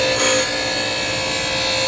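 Hand grinding a high-speed steel lathe bit on a bench grinder: a steady, close, high-pitched whine with a continuous gritty hiss of steel against the wheel, constant throughout with no talking.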